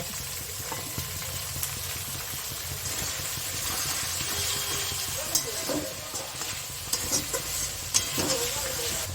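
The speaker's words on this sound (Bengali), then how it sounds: "যতক্ষণ আমার পেঁয়াজটা ভাজা হচ্ছে" Chopped onions fry in a pan for a chicken curry, giving a steady sizzle with occasional clinks and scrapes of stirring over a low background hum.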